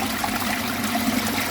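Water from a hose pipe flushing through a faulty UV filter makes a steady rushing trickle with a gurgling edge, close and continuous, with no voices.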